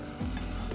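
Water bubbles at a soft boil in a cooking pot while two-colour rice is prepared: a brief, faint, hissing simmer with light crackles, no voices.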